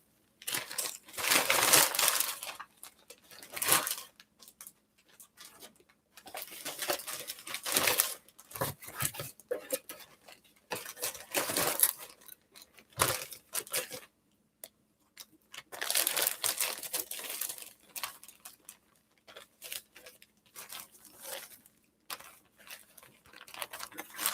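Plastic packaging of an infusion gravity fill bag crinkles and rustles in irregular bursts, loud and close, as items are unwrapped and handled, with brief pauses between handling.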